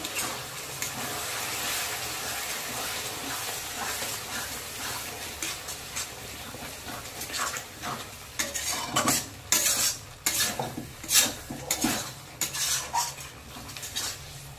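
Spoon scrapes and stirs masala in a metal pan while it sautés for a chicken and potato curry, with soft sizzling under repeated clanks that grow sharper and more irregular toward the end.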